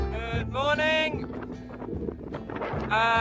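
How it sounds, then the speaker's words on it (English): Strong, gusty wind buffets the microphone on a tall-bike tour through Serbia, with loud, rumbling blasts that come and go in waves. "as you can see, it's a little windy"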